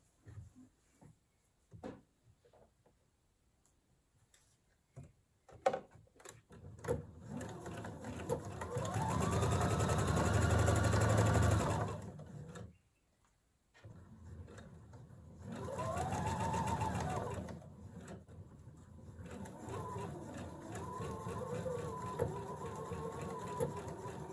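A sewing machine stitches the armhole seam of a blouse 1 cm from the edge, running in two long steady whirring stretches with a brief stop, a quieter hum following, and clicks and handling noises at the start.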